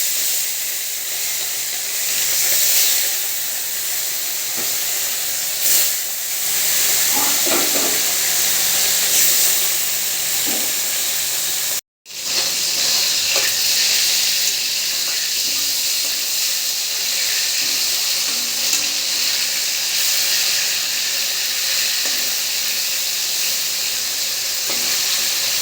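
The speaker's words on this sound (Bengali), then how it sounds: "এবারে মাছগুলো ভেজে নেব।" Fish pieces frying in hot oil in a wok, a steady close sizzle and hiss running throughout, with a brief cut in the middle before the crackling resumes at the same level.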